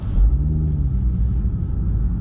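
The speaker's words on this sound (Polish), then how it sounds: "dodatkowo ten ryk silnika, kurczę, to jest życie" A 2019 Audi RS3's five-cylinder engine rumbles deeply and steadily at close range, a low continuous roar with no talking.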